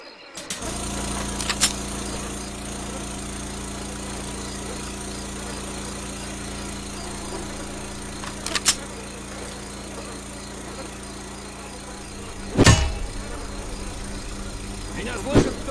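A boat motor in the video game Left 4 Dead 2 drones steadily at an even pitch throughout, broken by a few brief knocks and clatters.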